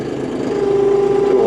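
A John Deere 5075E tractor engine runs steadily as the loader bucket lowers, and a hydraulic whine rises and holds at a constant pitch over the close, loud engine drone, with no talking.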